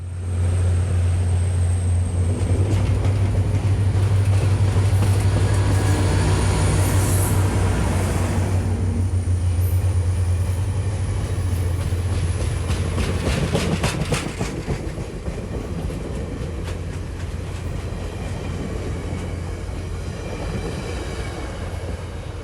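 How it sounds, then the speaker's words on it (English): A VIA Rail corridor train hauled by two F40PH diesel locomotives pulls out of Oshawa, heard from aboard: a loud steady engine drone and rumble with wheel noise and clicks, easing to a quieter rolling sound later. "F40PH locomotive 6432 and 6414 haul our train out of Oshawa and on up the corridor."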